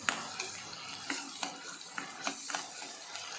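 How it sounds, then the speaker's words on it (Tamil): Ginger and garlic sautéing in a pan for vegetable pulao, with a soft steady sizzle and a string of light scraping stirs recurring about every half second, near and moderately quiet, no talk. "நல்லா வதங்கட்டும் இப்போ ஓரளவு நல்லா இஞ்சி பூண்டோட பச்சை வாசனை போயிடுச்சுங்க"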